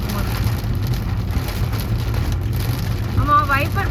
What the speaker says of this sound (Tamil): செம்மையாக இருக்குது மழை பார்க்கும்போது.